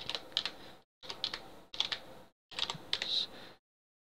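A file name typed on a computer keyboard, close and clear: bursts of rapid key clicks broken by short pauses, with no voice.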